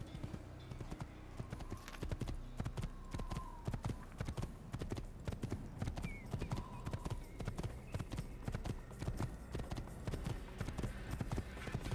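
A horse's hooves clip-clop at a brisk, steady gait across the ground in the Assassin's Creed video game, close and continuous for the whole stretch, with faint background sounds and a possible soft whinny.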